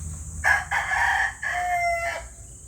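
A gamecock rooster crows once, a loud, close, drawn-out call in several segments lasting about two seconds, heard alone over faint background noise.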